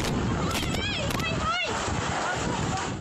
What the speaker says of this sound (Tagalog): Halos matumba ang mga puno habang rinig ang malabuhawing lakas ng hangin dala ng Bagyong Tino.